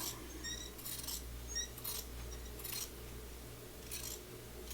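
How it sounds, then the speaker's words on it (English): Scissors snipping through draped dress fabric at close range, a steady run of about five crisp cuts spaced under a second apart, over faint steady hum and without talk. "And then I'm going to go ahead and cut this side."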